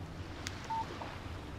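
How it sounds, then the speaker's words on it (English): Text message notification in the video game Alan Wake, a single short electronic beep over quiet ambient background. "Text message from Barry"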